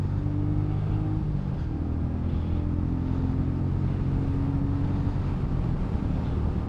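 Engine note of a Royal Enfield Meteor 350 motorcycle pulling out of a corner, a steady low drone with rising tonal hum under heavy wind rush, continuous and fairly loud.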